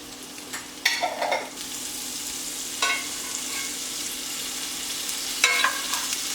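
Greens fry with minced garlic in a skillet. The sizzle is soft and steady, with three bursts of scraping and tossing as they are stirred, one near the start, one midway and one near the end.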